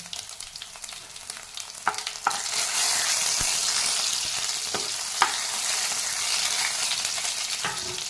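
Steady sizzling of cumin, chopped green chilli, curry leaves and garlic frying in hot oil, with a few sharp crackles and pops, loud and close, no voices.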